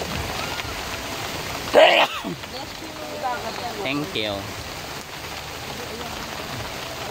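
Rain falls steadily at Paeng Falls, a constant hiss of drops on surfaces throughout, with a brief louder clatter and people talking faintly underneath.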